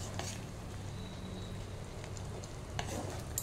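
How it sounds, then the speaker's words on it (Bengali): Poppy seed curry stirred in a pan over a high flame gives a steady, low sizzle and fry hiss with soft scraping, fairly close and even throughout, with no talking. "এবার আমি ফ্লেমটা হাই করে একটু ভালো করে মিক্স করব।"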